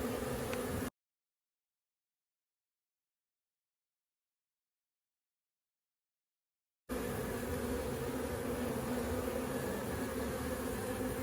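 Honey bees buzz steadily around a hive during an inspection, a dense continuous drone broken by a long silent gap in the middle.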